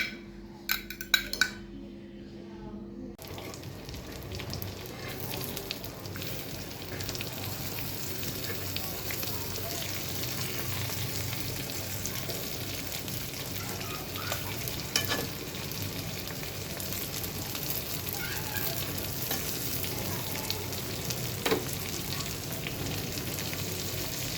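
Fish fries in hot oil in a pan, restaurant-style fish fry, giving a steady close crackling sizzle with occasional utensil clinks after a few brief knocks at the start.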